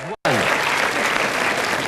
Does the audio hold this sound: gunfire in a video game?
no